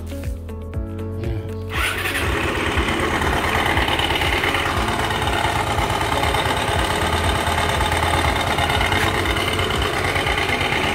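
A motorcycle engine starts up and runs with a loud, continuous mechanical rattle and clatter from a failing transmission, close and steady throughout.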